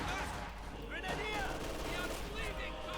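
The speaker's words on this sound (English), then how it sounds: "Goes here with a light machine gun firing away." Light machine gun fire in the strategy game Company of Heroes 2 rattles in a dense, continuous battle mix of shots and effects, with a commentator's voice running faintly underneath.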